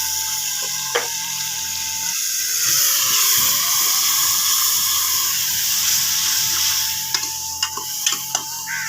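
Onions and spices frying in a pan for dhaba-style chana dal, a steady sizzle and hiss with scraping stirring strokes, loud and close, with a few sharp clinks of the spoon against the pan.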